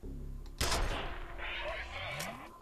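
A shotgun blast in the shooter game F.E.A.R., a single loud burst with a broad crack that trails off, followed by lower in-game rumble and movement, with no one talking.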